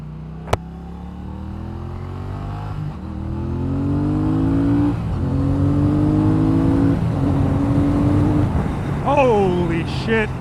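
A 2017 Triumph Thruxton motorcycle accelerates hard, its engine pitch climbing through several gear changes in repeated rising sweeps. A sharp click sounds near the start, and a rider speaks near the end.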